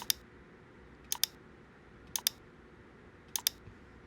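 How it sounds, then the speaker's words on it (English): Computer mouse clicks while tracing shapes with a curvature pen tool: sharp isolated clicks and quick double clicks spaced about a second apart over a faint steady room hum, with no talking. "I click here and just kind of keep clicking."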